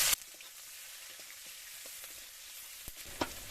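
Chopped onions dropped into hot oil with bay leaves and black cumin for a village-style fish curry with potatoes, giving a steady soft sizzle, fairly quiet and continuous, with a few small pops and clinks.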